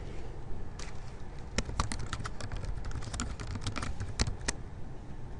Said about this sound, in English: On the Create/Edit Multiple Choice Question page, type the question text